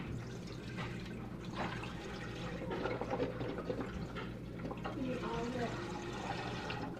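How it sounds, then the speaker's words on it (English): Chicken broth, Swanson brand, poured from its container into a cooking pot for chicken and dumplings, giving a steady liquid splash and glug that runs for several seconds under a person talking. "And just pour all of it in there."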